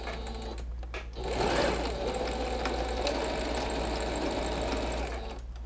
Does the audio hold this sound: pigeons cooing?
no